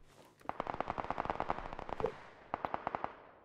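Rapid automatic gunfire from the battle royale game PUBG, a dense burst of shots for about two seconds, a brief pause, then a second shorter burst, moderately loud with no talking.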